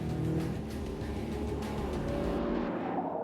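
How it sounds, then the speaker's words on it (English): A Shelby car's engine and exhaust roar steadily, a loud close rumble with a brief rise that cuts off abruptly near the end. "it's got to sound like a Shelby."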